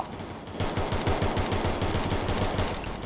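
Rapid automatic gunfire in the shooter game Free Fire, a fast even stream of close, loud shots lasting a few seconds with no talk over it.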